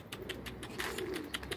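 Mail pigeons coo softly at a distance, a few low repeated calls mixed with faint wing flutters and scattered ticks, quiet and outdoors.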